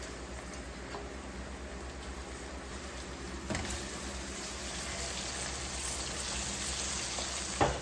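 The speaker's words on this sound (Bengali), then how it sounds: "এখন আমি পেঁয়াজ ভাজার সাথে চিংড়ি মাছটা দিয়ে একটু ভাজা ভাজা করবো।" Shrimp fries with onions in a pan, giving a quiet, steady sizzle throughout with one brief stirring knock partway through.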